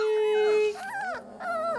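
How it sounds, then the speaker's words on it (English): A litter of puppies howls and yips together, rising and falling wavering whines layered over one another, close and loud with short breaks between overlapping howls. "Watch what they're barking."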